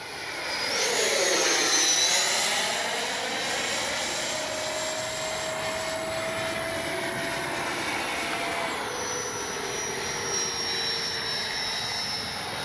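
An FMS 80mm F-86 Skyblazers electric ducted-fan RC jet cruising at about half throttle, giving a loud, steady high-pitched turbine-like whine with a rushing roar that swells as it passes close, then settles into a continuous drone.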